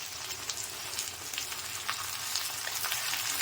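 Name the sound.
okra frying in oil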